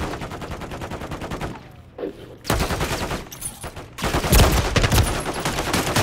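Rapid automatic gunfire in Call of Duty MW3 zombies mode on PS5, dense repeated bursts of loud shots with brief pauses, intensifying toward the end.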